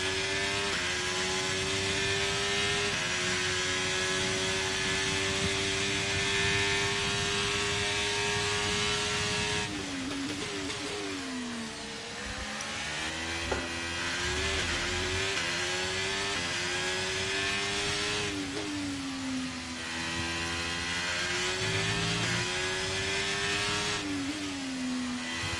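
High-revving Formula 1 car engine in F1 23 at Monza, a loud continuous whine held near the top of the rev range, with repeated gear shifts dropping and climbing the pitch across the run.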